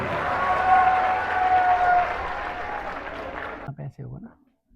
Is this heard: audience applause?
yes